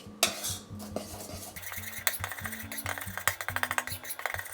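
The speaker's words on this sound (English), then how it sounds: "Add 1/4 teaspoon of salt and mix" A spoon or whisk stirring dry brownie ingredients (flour, cocoa powder and salt) in a bowl, giving quick repeated scraping and tapping strokes against the bowl, close and fairly quiet.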